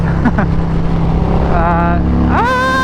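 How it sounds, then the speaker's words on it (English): A motorcycle's exhaust roars and echoes while riding through a downtown Phoenix tunnel, loud and close, with engine tones rising sharply near the end as the rider revs; wind noise and faint talk sit underneath. "My first time driving through this tunnel with anything that has an exhaust."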